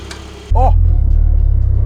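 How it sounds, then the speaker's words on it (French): A car engine with its exhaust valves opened bursts into a loud, deep rumble halfway through and holds a throbbing roar, with a brief voice-like whoop over it. "j'ai ouvert les valves, ça change, hein, écoute"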